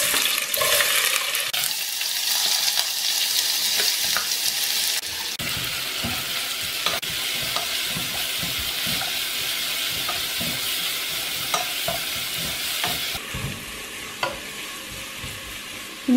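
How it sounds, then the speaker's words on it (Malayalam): Three chopped onions frying in a pan already holding mustard seeds, for chicken curry; a loud, steady, hissing sizzle runs throughout, broken by frequent stirring scrapes and clacks. "ഇനി അരിഞ്ഞു വെച്ചിരിക്കുന്ന 3 സവോള ഇട്ട് കൊടുക്കുവാണ്"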